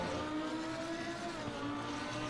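A Ferrari 488 Non-Evo GT3 race car in Assetto Corsa Competizione drones steadily at Imola, its engine a continuous buzzing tone held at moderate loudness with no talk over it.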